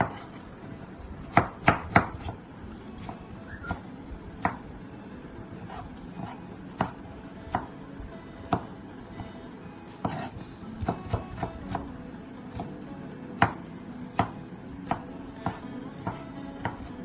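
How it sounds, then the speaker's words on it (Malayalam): Knife chopping tomatoes on a board, irregular sharp taps spaced a second or so apart, close by with a quiet background. "അപ്പോൾ നമുക്കിനി അടുത്തത് നമുക്ക് തക്കാളിക്ക് അരിയാം"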